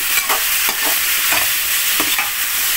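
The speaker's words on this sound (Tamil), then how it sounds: "மேஷ் பண்ணி கலக்கிக்கலாம்." Cooked vegetables for sambar are mashed and stirred in a pot, giving a steady hissing bed broken by several soft scraping strokes at irregular intervals.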